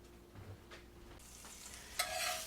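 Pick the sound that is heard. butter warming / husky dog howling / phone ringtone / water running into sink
butter warming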